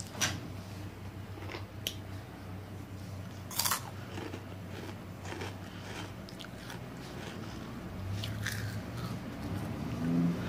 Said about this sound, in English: Some people be chewing mad loud, but I don't chew like that.